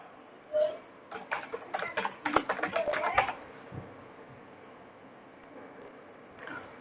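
Typing a password on a computer keyboard, a quick burst of soft, close key clicks lasting a few seconds, with one stray tap before and another after, in an otherwise quiet room.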